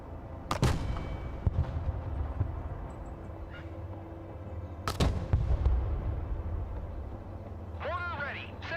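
A Broken Arrow artillery fire mission in progress, with two sharp loud blasts spaced a few seconds apart, each followed by rumbling, over a low constant background drone.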